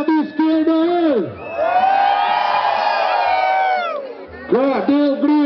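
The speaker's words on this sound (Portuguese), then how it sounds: "cadê o grito da galera do lado esquerdo aí?" A crowd on one side of a venue shouts and cheers in one sustained, loud collective roar lasting a few seconds, between bursts of amplified speech from a host.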